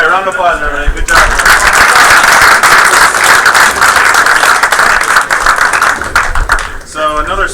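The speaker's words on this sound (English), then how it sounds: "All right, round of applause, everybody." A full audience round of applause at a game studio awards ceremony, loud dense clapping that swells and holds for several seconds, with voices briefly heard at the start and end.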